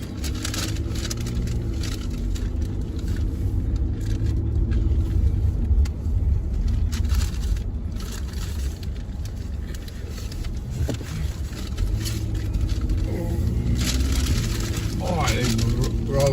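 A Chevrolet Monte Carlo drives over bumpy roads in Salisbury, with a steady low interior rumble and road noise, light rattles and thumps, and a voice talking over it.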